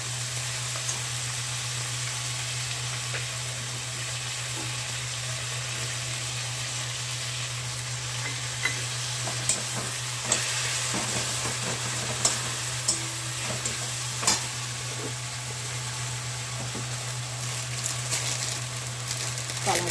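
Ginger-garlic paste fries in a pan for a cabbage and fish-head dish, giving a steady sizzle under a constant low hum, with scattered stirring clicks and scrapes toward the end.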